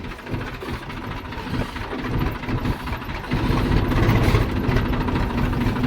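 A tractor engine runs steadily on a muddy village field, a loud, continuous low rumble that grows slightly heavier toward the end, with no talk over it.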